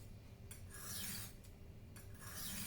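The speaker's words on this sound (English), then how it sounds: "almost hear the metal being worn away by the grit" A kitchen knife is drawn across a grit sharpening stone in slow, repeated passes, each stroke a soft rasping scrape of metal on abrasive, close and fairly quiet with no voices.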